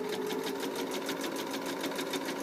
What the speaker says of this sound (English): Sew all the way across again.